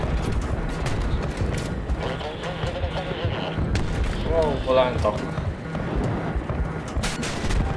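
Rapid bursts of Battlefield 3 gunfire and booms pound steadily beneath excited talking, with dense, continuous low-end rumble throughout.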